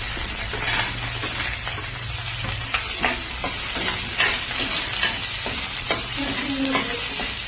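Onions sizzle and fry in a pan with hot oil alongside softened green chillies, a spatula stirring and scraping steadily with small clinks against the metal, continuous and close with no voices.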